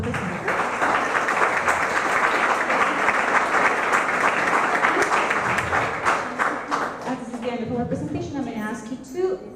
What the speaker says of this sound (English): I would like to ask you two for applause for our presenter